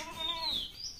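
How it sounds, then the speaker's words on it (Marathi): A bird in a village among bamboo gives a faint, quick whistling chirp that sweeps upward, a brief thin call over soft background hiss. "हे पक्ष्यांचे आवाज"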